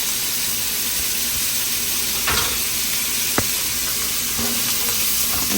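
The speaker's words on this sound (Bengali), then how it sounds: "এখানে এখন সব রসুন দিয়ে দেওয়া হয়েছে কুচি করা" Chopped garlic sizzling steadily in a pan, a constant close hiss broken by a few sharp scrapes and clinks of stirring.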